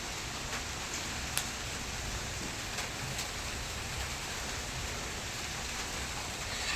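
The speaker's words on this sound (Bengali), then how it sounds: "এই দেখো বৃষ্টি হচ্ছে।" Heavy early-morning rain falls outside in a dense, unbroken wash of even hiss, with occasional brighter drop impacts.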